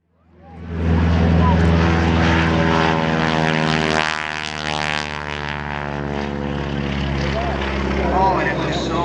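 A helicopter at an airshow hovers and flies nearby, its rotor and engine making a loud, steady droning hum with a rhythmic blade thump that holds throughout.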